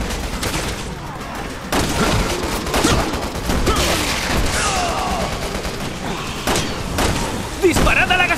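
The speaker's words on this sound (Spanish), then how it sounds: "¡Disparad a la gasolina! ¡Así saltarán en pedazos!" Gunfire in the zombie-fighting video game Resident Evil 6, a near-continuous fusillade of loud shots and booms under excited shouting from several players.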